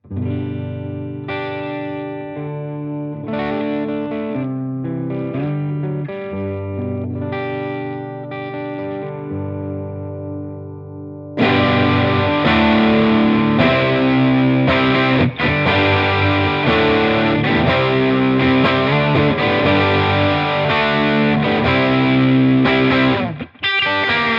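A Vintage V100 electric guitar plays a cleaner, softer passage on the neck pickup, then abruptly switches to the bridge pickup, a louder, thick overdriven tone with heavy distortion for the second half.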